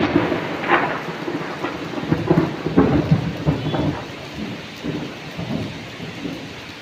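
Heavy unseasonal rain pours down in a steady wash with low rumbles of thunder rolling through, loud and close, the rumbling swelling and fading over a few seconds.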